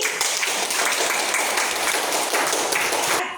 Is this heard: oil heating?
no